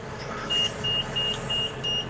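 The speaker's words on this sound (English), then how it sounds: "this arm that's going off is I have an alarm system in here when I get about 18 wraps" A baler's wrap counter alarm sounds five evenly spaced, clear electronic beeps over the steady hum of the running machine.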